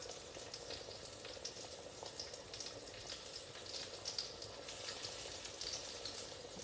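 Italian meatballs searing in a cast iron pan just after being flipped give a soft, continuous sizzle with small crackles and pops, fairly faint and steady throughout.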